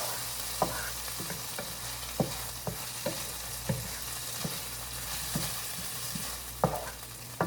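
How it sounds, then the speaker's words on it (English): A frying pan being deglazed after cooking sweet potato gnocchi with cheese hisses at low level while a utensil scrapes and taps the pan bottom at a slow, fairly regular pace. "I'm trying to deglaze the pan a bit."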